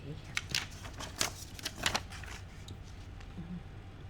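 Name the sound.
Parker IM ballpoint pen writing on paper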